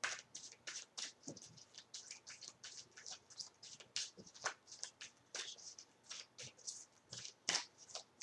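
Tarot cards riffle and snap through a long shuffle and draw, a steady run of quick papery flicks and soft slaps, close and fairly quiet with no talk.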